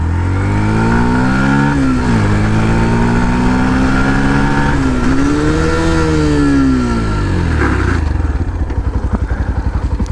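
Yamaha FZS V3 and TVS RR310 motorcycles roar past in a loud flyby, engines revving with rising and falling pitch as they pass close, then a rapid clattering idle-like throb trails off at the end.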